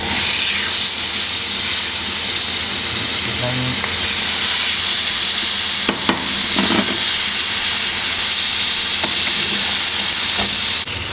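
New York strip steak searing in a very hot pan, a loud, steady sizzle and hiss that holds throughout, with a few brief clatters in the pan.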